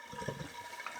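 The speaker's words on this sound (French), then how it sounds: "presser au maximum l'eau qui est dedans pour la faire sortir, sans tordre la laine" Water squeezed by pressing down on a soaked piece of wool knitting: a brief, close, wet gushing and dribbling that lasts about a second, with no talking.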